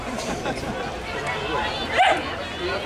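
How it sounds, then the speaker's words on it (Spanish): A dog barks among a cheering crowd at a 1500 m decathlon race during a Galician athletics championship, one or two sharp barks near the middle standing out over steady babble and shouts of spectators. "Como anima el perro."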